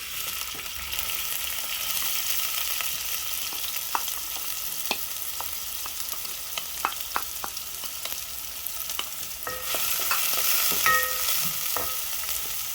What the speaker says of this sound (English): Next, we go in with our chopped onions.